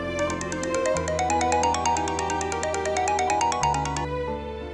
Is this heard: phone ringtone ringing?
yes